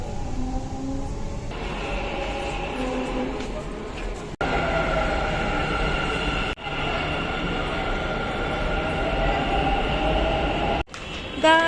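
A Bangalore metro train rumbles along at speed, with a loud continuous roar and whine and occasional sharp clunks, while people talk nearby in the carriage.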